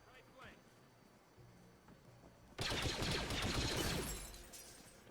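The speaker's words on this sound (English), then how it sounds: "So I think the blue 4 guys just shot at each other" Video game gunfire erupts partway through, a sudden loud burst of rapid shots and crackling impacts lasting a couple of seconds before fading, with people talking over it.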